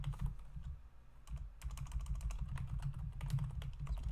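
Rapid clicking of keys on a computer keyboard, quick bursts of typing with a short pause near the start, close and clear.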